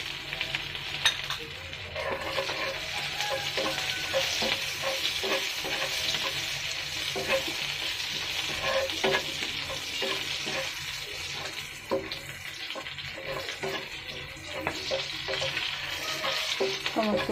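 Okra (bhindi) fries steadily in hot oil, with a continuous dense sizzle and occasional stirring scrapes running throughout, close and fairly loud, with no talk.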